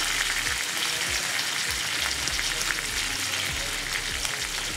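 Garlic and curry leaves fry in a hot pan with chana dal for ajwain fried rice, a steady dense sizzle carrying on throughout, with occasional low knocks of stirring and no talk.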